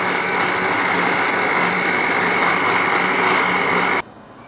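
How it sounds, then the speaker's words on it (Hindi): Electric blender whirring steadily as it blends pomegranate juice, a loud continuous motor drone with a high mechanical whine that cuts off abruptly near the end. "अच्छे से ब्लेंड करके आपको दिखाते हैं।"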